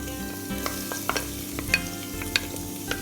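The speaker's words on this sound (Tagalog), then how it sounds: "We'll start with the roasted garlic. I-roast natin. Lagay natin yung garlic. Mainit na yung ating oil." Garlic fries in hot oil for a beef pares topping, giving a steady close sizzle broken by a few light stirring clicks.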